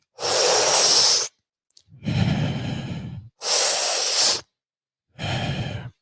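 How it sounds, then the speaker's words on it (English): Deep breaths drawn in and pushed out through the mouth during a breathwork exercise: four long, loud, close airy breaths, each about a second long, separated by short silences, with no talking. "We're going to be breathing through the mouth, in through the mouth and out through the mouth."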